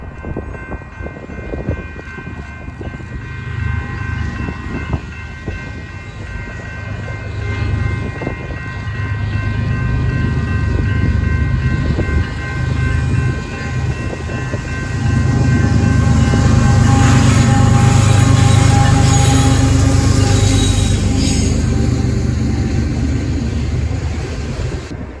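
A Kansas City Southern freight train rumbles past steadily, growing louder and closer, with a horn sounding and wheels clattering over the rails.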